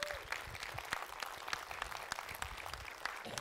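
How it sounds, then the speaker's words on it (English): Applause from a conference audience for a helper at a freenode #live 2018 talk, a quiet, even patter of many hands with sharper individual claps, heard from some distance. "applause for Nathan for running his ass off"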